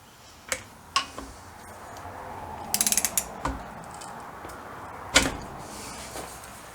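Ratchet wrench clicking in short bursts while tightening a bolt on a BSA B50T motorcycle, with several sharp metallic clicks and a quick rattling run of ratchet ticks, close and clear over quiet workshop background.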